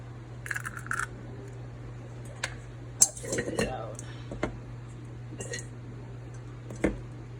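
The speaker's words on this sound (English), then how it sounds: "So take your egg, crack it. Separate that." An egg is cracked on a kitchen surface and separated into a bowl while making lemon and basil gelato, giving a few short, sharp taps and clinks spread over several seconds against a steady low hum, with soft handling noises between.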